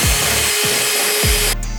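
A Dremel rotary tool whines at high speed while enlarging holes in a carbon fiber fender for an 11th gen 2022 Honda Civic. It is loud and close, with a few short revving dips before the tool stops abruptly.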